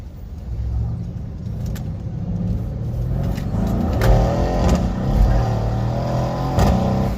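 A tuned Mercedes-AMG C63 S engine with a JB4 tune rumbles and revs continuously from inside the car, with occasional clicks and rattles over the low drone.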